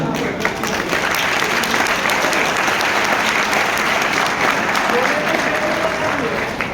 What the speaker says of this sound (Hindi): मैं आप सबसे जोरदार तालियां बजवाना चाहता हूं।